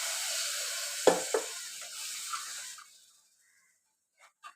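Mutton masala sautéed and stirred in a pan, a steady close sizzle with two sharp utensil knocks early on, the frying hiss fading away midway and leaving near silence broken by a couple of faint clicks.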